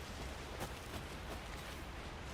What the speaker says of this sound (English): Should have brought an umbrella. I like the rain.